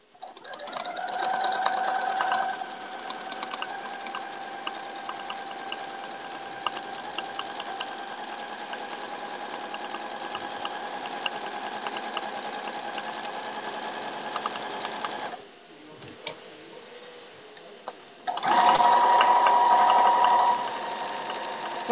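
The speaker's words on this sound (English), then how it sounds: "now I'm going to start quilting back towards myself" A sewing machine quilts a log cabin quilt with fast, steady stitching that runs for long stretches, stops briefly, then starts again louder, close-up and alone.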